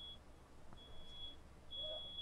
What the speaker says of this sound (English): Find out what's beeping.